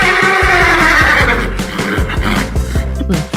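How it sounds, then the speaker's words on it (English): Zebra call in a 3D animal sliding video game, a loud, horse-like whinny followed by rhythmic snorting pulses, with no talk. "Zebra."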